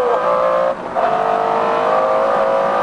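A McLaren F1 engine accelerating hard through the gears, a loud close high-pitched howl with one brief dip for an upshift before the revs climb again, no speech.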